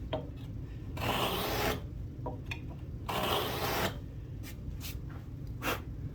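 A very coarse hand saw cuts a sliding dovetail in wood with a few long, rasping pull strokes, close and clear, separated by short pauses with lighter scrapes.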